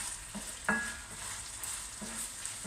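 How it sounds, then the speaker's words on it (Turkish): Chicken pieces sauté in a hot pan, giving a continuous sizzle with a couple of quick spatula scrapes against the metal, up close and with no voices. "Şimdi biraz kavrulsun arkadaşlar"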